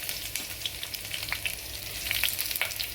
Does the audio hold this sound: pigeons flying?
no